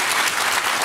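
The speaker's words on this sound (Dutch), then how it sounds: "Geef haar een absurd applaus" A studio audience applauding on a Dutch late-night talk show, a dense, loud, steady burst of clapping from many hands, very short.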